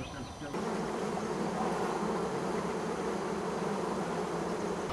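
Many flies buzz close by in a continuous, droning hum that starts suddenly after a short quieter moment and holds steady to the end.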